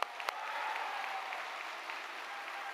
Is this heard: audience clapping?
yes